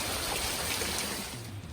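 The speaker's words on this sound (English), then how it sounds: "It's raining solid all day." Rain falls steadily outside a workshop on a wet Southern California day, a constant dense hiss that eases slightly toward the end.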